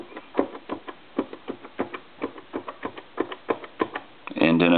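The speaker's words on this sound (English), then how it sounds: "And we'll go ahead and dial the numbers one more time." Keys are pressed on a Snoopy novelty telephone under repair, a string of sharp, evenly spaced clicks and taps heard up close, and the sequence ends in a short burst of tone.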